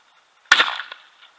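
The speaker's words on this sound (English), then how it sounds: "Good shot, Jim." A single shotgun blast fired at a Eurasian dove during a morning hunt in Idaho, a sharp, loud report that trails off into a short echo across open fields.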